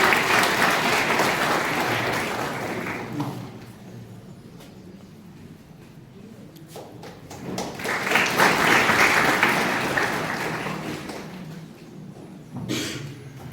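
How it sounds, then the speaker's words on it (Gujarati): An audience at a college mother-tongue festival claps in two swells, a loud round that fades by about four seconds, then a second strong round, ending with a brief clatter of claps. "તાળીઓથી આપણે અભિવાદન કરીશું."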